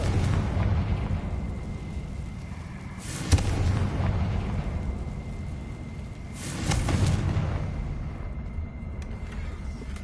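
Two heavy booming explosions from the Confringo fire spell in Hogwarts Legacy, each a loud broadband blast with a rumbling tail, spaced a few seconds apart over steady game ambience.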